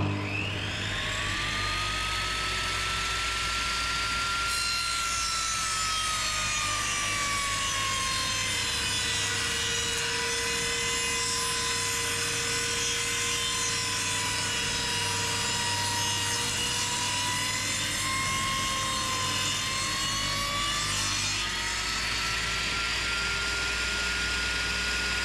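A power saw cuts through wood in one long, steady pass, its motor whining with a shifting pitch over a continuous rasp that stays loud and close throughout.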